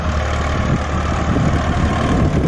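A New Holland 3230 diesel tractor engine runs steadily nearby, a loud, low, even rumble that holds for the whole stretch with no talking.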